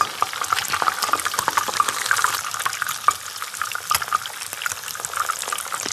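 A carp portion fries in a pan in fresh herb breadcrumbs with butter, giving a close, continuous dense crackling sizzle with scattered sharper pops throughout.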